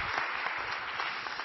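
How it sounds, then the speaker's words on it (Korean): Congregation applauding during a Korean church service at Onnuri Church, steady broadband clapping across the whole short stretch with no talking over it. "이 밤에 임하실 우리 살아계신 하나님께 감사의 박수 올려드리시겠습니다"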